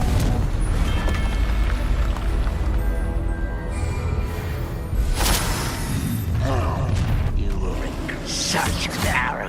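Fiery Confringo spell blasts boom during a Hogwarts Legacy duel, several sharp bursts scattered among clattering mechanical effects and combat noise, with voices speaking in between.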